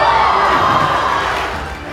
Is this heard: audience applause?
yes